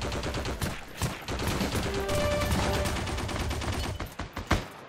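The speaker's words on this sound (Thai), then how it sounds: "ปืนหนักด้วยนะแล้วยืนยิง" Heavy gunfire in the online war game Heroes & Generals, dense sustained bursts and rapid shots loud throughout, with a brief lull near the end before a final volley.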